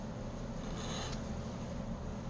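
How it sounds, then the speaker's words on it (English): A metal file rasps steadily against a part during a Miata V8 build, a continuous quiet scraping heard close up with no talking. "This file is pretty sharp."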